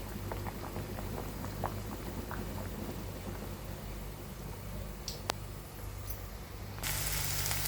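Rice bubbling in a pot on the stove, a continuous soft boiling hiss with faint scattered pops, then a sudden brighter rush of hiss near the end.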